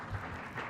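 Audience applause after an entrepreneur's K-pop entertainment pitch in a conference hall, a brief burst of steady clapping at moderate level.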